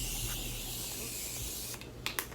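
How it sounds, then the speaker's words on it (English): Setting spray misted onto a face as a steady, close hiss lasting about two seconds, followed by a couple of brief soft taps. "I know you're probably thinking I spray my face a lot"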